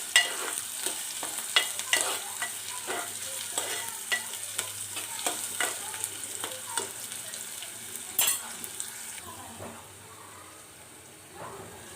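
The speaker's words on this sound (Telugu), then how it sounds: "ఆనియన్స్ మంచిగా ఫ్రై అవ్వాలి." Onions fry in hot oil under a constant crackling sizzle while a spoon stirs them, giving frequent scraping knocks and clatters close by. Toward the end it settles into a quieter hiss.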